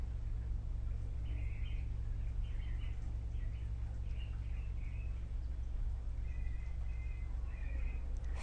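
Birds sing outdoors in scattered short bursts of high chirping, fairly faint, over a steady low rumbling background hum.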